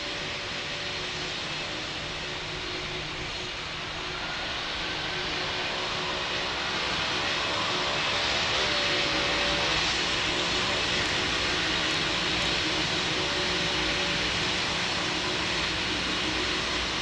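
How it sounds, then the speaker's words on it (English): A Ryanair airliner taking off in the Roblox game Pilot Training Flight Simulator, a steady broadband jet roar that swells gradually louder over the run, with no talk. "Ryanair 8982, you're cleared for takeoff on runway 13."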